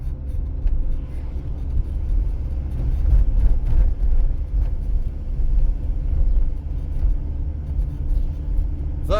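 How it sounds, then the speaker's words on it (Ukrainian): Continuous low engine rumble from a car in second gear at about 2200 rpm on a driving-test route in Kropyvnytskyi, Ukraine, steady with slight fluctuations and some road noise, heard from inside. "зараз рухаюсь на другій передачі, у мене 2200 оборотів колінчатого двигуна"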